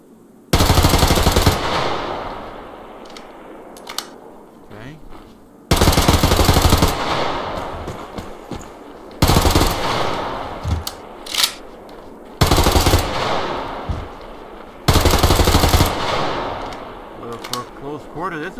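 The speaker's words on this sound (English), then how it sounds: "This looks like a shotgun. It feels like a shotgun." Shotgun blasts in the Survarium first-person shooter, five loud, booming reports spaced a few seconds apart, each followed by a decaying tail of mechanical clatter and pump or reload clicks.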